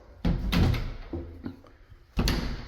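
A coat closet door by the front door of a house being opened and closed, a few quick wooden thuds and knocks, close and without talk.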